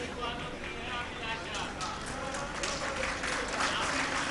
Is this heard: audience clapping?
yes